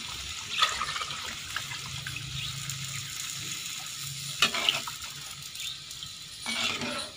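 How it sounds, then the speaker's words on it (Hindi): Water is poured into a pot of whole masoor lentils cooking for biryani, giving a soft splashing, sizzling pour with a few louder bursts as it hits the hot pan. "इसको थोड़ा पकाने के बाद चावलों के हिसाब से इसमें पानी डाल दें।"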